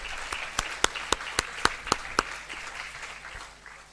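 At a kindergarten graduation ceremony, several loud distinct claps in an even rhythm stand out over a softer crowd of applause, which thins and fades toward the end.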